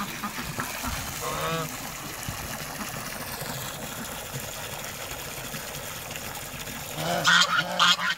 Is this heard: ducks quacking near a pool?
yes